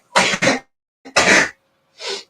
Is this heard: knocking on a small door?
no